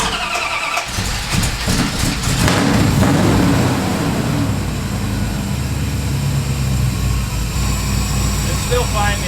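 RADCHARGER engine idling steadily just after starting, a loud continuous rumble with uneven revving early on, heard alongside voices talking nearby.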